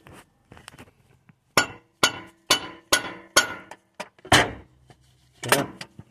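Metal strikes ring out on an old rusted water pump being loosened on a 1995 Chevy K1500, about nine sharp clanking hammer blows, irregular at first and then steadier, close and fairly loud, with no talk.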